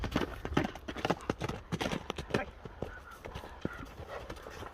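Racehorse hooves clatter in a rapid, uneven run of close, loud clip-clop strikes that thin out toward the end, with voices talking over them.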